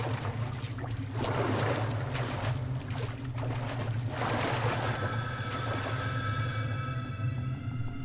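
An old telephone rings somewhere in the dark tunnels of Metro Last Light, a bright metallic bell trilling in bursts over a steady low engine-like drone and hum.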